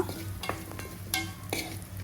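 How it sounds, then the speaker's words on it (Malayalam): Chili and coriander powder stirred in a frying pan for a Kerala-style fish curry: close scraping strokes of a spoon around the pan at a steady rhythm over a low, constant sizzle, with no voices. "അതിനോടൊപ്പം തന്നെ ഒന്നര ടേബിൾ സ്പൂൺ മുളക് പൊടിയും അര ടേബിൾ സ്പൂൺ മാത്രമാണ് മല്ലിപ്പൊടി ഞാൻ ചേർത്ത് കൊടുത്തിരിക്കുന്നത് എന്നിട്ട് നന്നായിട്ടൊന്ന് യോജിപ്പിച്ചെടുക്കുക"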